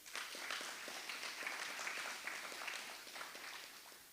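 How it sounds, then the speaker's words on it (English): Distant, fairly faint applause from the audience at an Anguilla national elections debate for District 3 and 4, a steady wash of many hands clapping throughout. "Round of applause for her, please."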